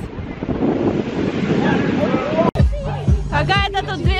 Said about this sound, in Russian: ветер сегодня просто, блин, как будто бы январь месяц